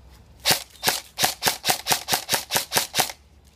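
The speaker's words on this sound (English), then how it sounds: "And we will see how it shoots. Using M4 flash mag." A VFC PDW airsoft gun fed from an M4 flash mag fires about ten sharp semi-auto shots in a quick even rhythm, loud and close with no talking.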